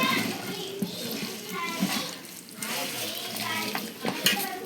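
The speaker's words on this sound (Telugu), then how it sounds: "ఇలా శుభ్రంగా ఇలా కలుపుకోవాలండి బాగాను" Biryani ingredients being mixed by hand with lemon juice, a wet, squelching stir with soft sloshing and rustling, close and moderately loud, with irregular swells throughout.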